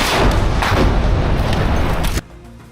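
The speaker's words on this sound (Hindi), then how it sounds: "हमास के लड़ाके सामने खड़े एक टैंक पर आरपीजी दाग देते हैं जिसमें ये टैंक आग का गोला बन जाता है" Continuous loud booming and crackling fire from an RPG strike on a tank in a street battle, with explosion and gunfire blending into a dense roar that cuts off abruptly near the end.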